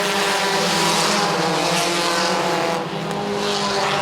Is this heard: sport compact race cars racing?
yes